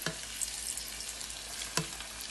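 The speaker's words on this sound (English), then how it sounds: "we're gonna start frying our chicken" Chicken pieces frying in very hot oil for sweet and sour chicken, a steady bright sizzle with two short louder pops or stirs near the start and end.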